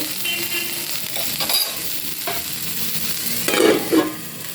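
Food frying in a pan for a vegetarian cauliflower curry, a loud, close sizzle with spatula stirring and scraping, and a couple of stronger bursts of spatter near the end.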